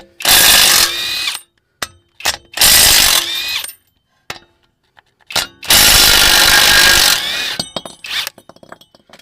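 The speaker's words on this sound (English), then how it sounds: "people say don't use chrome sockets on impact guns" A pneumatic impact gun drives a chrome socket on a vehicle hub assembly, hammering in three loud, close bursts of about a second or more each, with brief ratcheting clicks and tool handling between them.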